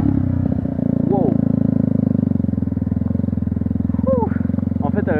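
A Yamaha YZF 125 R sport motorcycle being ridden, its engine droning loud and steady throughout with rhythmic pulsing, brief rev changes near the start and end, and a rider's voice audible over it.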